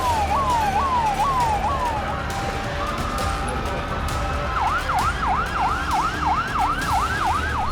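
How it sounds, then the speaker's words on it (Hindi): Wailing sirens in Beirut's Dahiya district minutes after an explosion cut through steady background noise, one slower rising-falling tone first, then a faster yelping pattern, loud and continuous throughout. "धमाके के 3 मिनट बाद बेरूत के दाहिया इलाके में सायरन गूंजने लगे"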